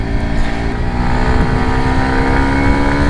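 A 2019 Kawasaki Ninja 125 motorcycle engine pulls hard at full torque, a loud, steady high-pitched drone close by that holds its pitch with only slight shifts, and no one speaks.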